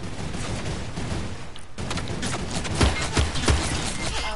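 Rapid gunfire from an overpowered gun in a video game, dense loud bursts of shots crackling almost continuously with a brief gap before another heavy volley.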